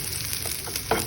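Tomatoes sizzling in a hot pan for a Filipino sautéed okra and egg dish, a brief steady hiss with a couple of soft scraping clinks.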